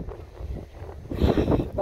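Wind blows outdoors on a gusty day, rumbling against the microphone in a low, uneven buffeting that grows stronger toward the end of a brief moment.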